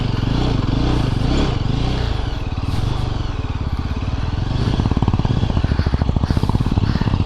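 A motorcycle ridden on a beach at Kappil, Varkala, Kerala, gives a loud, close, continuous engine drone and pulsing rumble that rises and falls as it revs, with some clattering under it.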